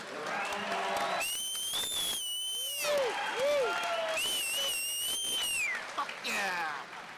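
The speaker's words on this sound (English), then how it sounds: "let's give both fighters a big round of applause" After a six-round boxing match, the arena crowd applauds and cheers while an announcer's amplified voice rings over the room, with whistles rising and falling through the clapping.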